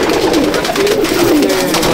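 Pigeons in a loft coo in a low, continuous warble, close and fairly loud, with soft rolling calls overlapping throughout.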